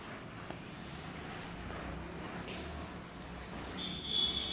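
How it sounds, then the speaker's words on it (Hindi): Writing being rubbed out on a board, a soft continuous brushing and scrubbing sound, close and quiet, with a faint high tone near the end and no talk. "तो मैं ऊपर से थोड़ा इसको रब कर लेता हूं"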